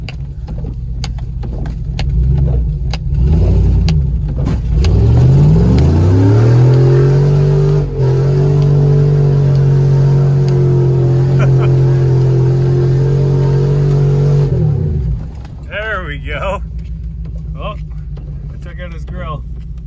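A 2021 Ford F-150 Limited pickup engine revs up and holds a loud, steady drone for several seconds before cutting off, close by, with people talking over and after it.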